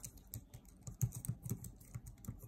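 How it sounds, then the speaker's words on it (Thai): Fast, light clicking of keys on a Bluetooth keyboard paired with a mobile device, a quiet irregular patter of keystrokes heard close up without talk. "พิมพ์ภาษาไทยได้แล้วนะครับ"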